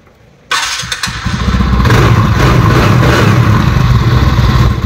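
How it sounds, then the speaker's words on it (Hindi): A TVS Ntorq 125 scooter with a damaged crank bearing starts abruptly after a short quiet moment, then settles into a loud, steady, rough idle with a persistent mechanical rattle close by. "क्रैंक के बेयरिंग जाने की आवाज़ आती है इंजन में आके"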